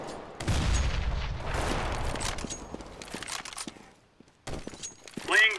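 Grenade explosions and bursts of gunfire in the CS:GO video game, a dense booming clatter at first that thins into scattered sharp shots and impacts.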